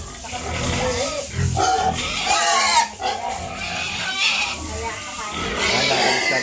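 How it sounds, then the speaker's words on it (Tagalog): Pigs oinking and grunting loudly and steadily at a farm pigpen during morning washing, with someone talking over the animals throughout. "Ilang buwan na yung baboy na yan?"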